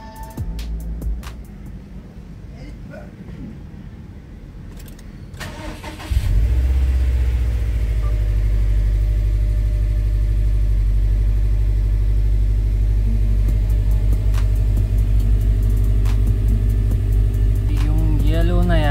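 A modified Subaru engine cranks briefly and fires up, then settles into a steady, loud, deep idle that rumbles on close by for the remaining seconds, with faint background noise before the start.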